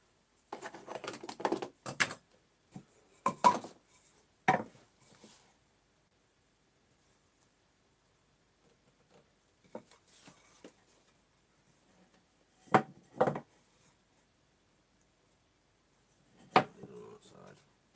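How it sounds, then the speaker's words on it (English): A wood joint for a table is cut with a chisel: sparse, sharp taps and knocks in short clusters separated by long quiet pauses, fairly faint and close. "let's do some chiseling"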